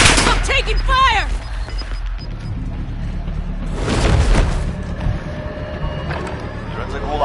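Gunfire rattles in a Call of Duty Warzone match, scattered shots and a heavier booming burst midway, mixed under game voice chatter and talk.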